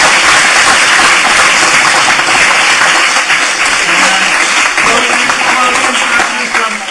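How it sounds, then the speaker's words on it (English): An audience at a day-two closing session gives a loud, sustained round of applause, dense clapping filling the room and slowly tapering toward the end. "let's give all of us a round of applause"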